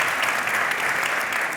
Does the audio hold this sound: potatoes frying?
no